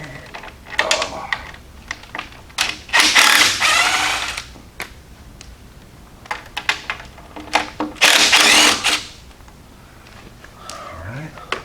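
Socket wrench ratcheting bolts off the water pump of a Barracuda engine, in two bursts of rapid clicking with scattered knocks and a voice between them.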